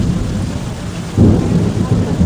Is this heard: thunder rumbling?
yes